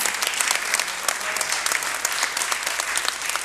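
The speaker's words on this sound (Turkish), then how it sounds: "büyük bir alkış istiyorum" A studio audience applauds a Roma orchestra and its soloist on a Turkish music show, dense steady clapping with sharp individual claps throughout.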